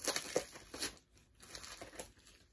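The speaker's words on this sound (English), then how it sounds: "Plastic doesn't want to come off." Plastic wrapping crinkles and crackles as it is peeled off a Star Wars Mandalorian mini collectible, with close, uneven rustles and small tearing sounds and no speech.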